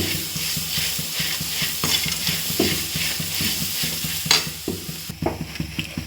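Aloo fry of potatoes with chilli and coriander powder sizzling in a pan under quick, rhythmic scraping stirs that rattle steadily and close by.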